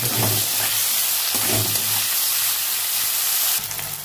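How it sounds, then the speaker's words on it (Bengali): Chopped onion, tomato and green chili fry in hot oil with a loud, dense hiss and crackle that holds steady, briefly softening near the end before continuing. "পেঁয়াজ, টমেটো কুচি দিয়ে দেবো, লবণ দেবো অল্প, দিয়ে একসাথে ভেজে নেবো"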